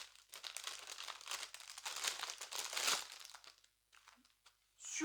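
Crinkly foam packaging wrapped around a Shein parcel item is unwrapped, giving dense, close crackling and crumpling bursts for several seconds before it tapers off into a brief rustle.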